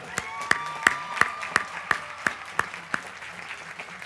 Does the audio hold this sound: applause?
yes